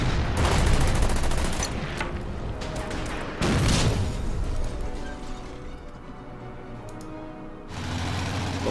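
Tank guns fire in the Order of Battle: Panzerkrieg war game, with booming shots and crackling fusillades in layered bursts, loud and continuous, with rumbling impacts and mechanical clatter.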